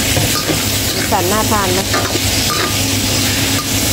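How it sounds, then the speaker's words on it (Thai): Paprika, carrot, onion and garlic stir-fry in a pan with a little water, giving a steady loud sizzle and hiss throughout while someone talks over it. "ผัดให้ผักสุกนะคะทุกคนใส่น้ำเล็กน้อย"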